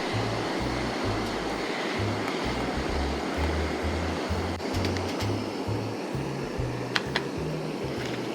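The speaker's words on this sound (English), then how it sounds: "That's got a great boil, so we can actually just shut off the water." Water boils hard in a camping pot on a backpacking stove, giving a close, steady rushing roar with a rapid low bubbling pulse running underneath throughout.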